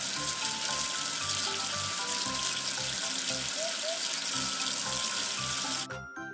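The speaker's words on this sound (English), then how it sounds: "Wash away the soap with water." Water pours from a tap to rinse off soap, a loud, continuous rushing splash that cuts off abruptly near the end.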